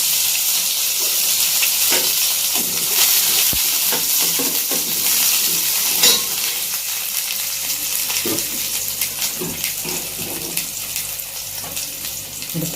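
Small onions fry in a pan with mustard seeds, giving a steady close sizzle with scattered pops and spatula scrapes from stirring throughout.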